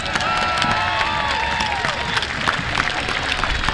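Applause and crowd noise from spectators at a patriotic street parade, steady dense clapping mixed with cheering voices and outdoor bustle throughout.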